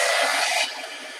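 A hair dryer blows steadily on craft pieces, a loud broadband rush that drops slightly in level partway through and then continues alone.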